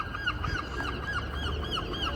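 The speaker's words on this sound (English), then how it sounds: "Do you hear the sound of seagull?" Seagulls calling on the Brighton seafront in winter, a string of repeated squawking cries over steady outdoor background noise, moderately distant.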